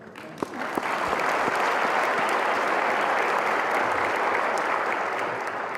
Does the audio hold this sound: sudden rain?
no